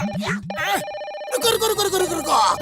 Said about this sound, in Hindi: बबल गम सर का फोन आ रहा है